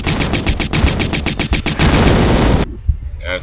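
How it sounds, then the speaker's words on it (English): Lara fires at a creature in the Tomb Raider: Unfinished Business hive level in Atlantis: a loud, rapid string of gunshots rattles for about two and a half seconds, then cuts off abruptly, leaving a brief faint sound. "Lara, turn back and shoot"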